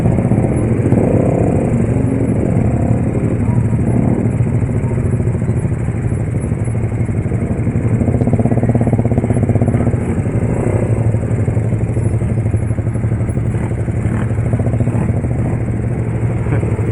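A motorcycle engine revved loudly and steadily close by amid a street celebration of Persib's championship, a continuous dense roar with a rough, sustained drone and little variation.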